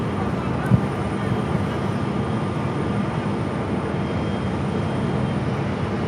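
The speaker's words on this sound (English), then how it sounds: "Looks like a heavy Prime Air 767 arriving on runway 26 on the north side." A heavy Prime Air Boeing 767 jet arriving on runway 26 at Phoenix Sky Harbor, a steady broadband engine roar at moderate distance that holds evenly throughout, with a brief click near the start.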